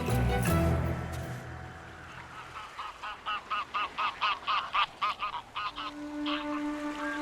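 Geese honk in a rapid run of about a dozen evenly spaced calls, moderately close, followed by a steady drone and a few scattered honks.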